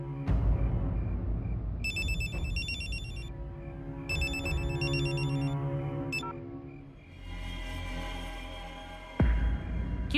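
A phone rings with two bursts of electronic tone over a low background rumble, followed by a brief third chirp and then a louder noise.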